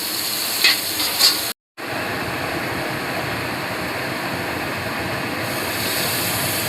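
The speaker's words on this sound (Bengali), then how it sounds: "একদিকে আমি লাল করছি আলু, আর এখানে পেঁয়াজ, সবটাই কিন্তু রিফাইন্ড অয়েল দিয়েই হচ্ছে" Potatoes and onions frying in refined oil in a pan, a steady loud sizzle with a couple of utensil clinks near the start and a brief dropout before the hiss resumes.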